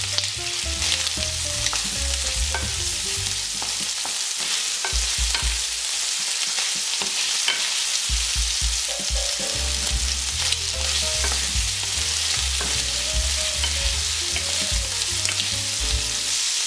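Sausage frying in olive oil with garlic in a pan, a steady loud sizzle with stirring and faint clinks, running continuously without speech.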